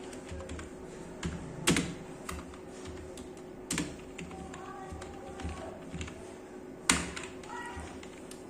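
Computer keyboard keys tapped in an irregular typing rhythm, close and fairly quiet, with a few louder clacks standing out against a faint background hum.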